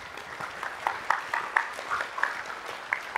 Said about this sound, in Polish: No ale brawa też mu się należą tak czy inaczej.